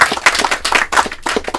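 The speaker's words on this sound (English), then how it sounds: "You can round of applause if you want to do that." A small audience at a celebration gathering claps briefly for a speaker, a short burst of close, uneven handclaps lasting under two seconds.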